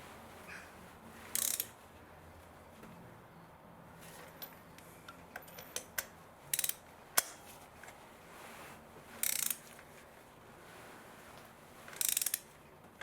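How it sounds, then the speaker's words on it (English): A ratchet clicks through short bursts while spark plugs are tightened on a 2007 VW Polo 1.4 automatic, with several brief rapid clicking runs separated by quiet pauses and scattered small metallic taps, close to the mic, no talking. "we still need to use the ratchet to just make sure they are in there properly."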